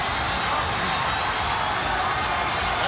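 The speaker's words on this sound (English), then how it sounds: "his capacity crowd is getting a little bent out of shape" Capacity crowd at a wrestling arena roaring and cheering in a steady, dense wash of noise, with scattered whoops and clapping throughout and no voices rising clearly above it.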